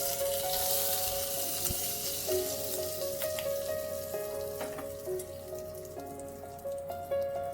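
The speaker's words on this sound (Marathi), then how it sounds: "आणि आता हा तडका खिचडीवर टाकून घ्यायचा आहे" Hot tadka of oil and red chili powder hits a pot of dal khichdi with a loud sizzle, a steady crackling spatter that slowly settles while small pops and clinks continue.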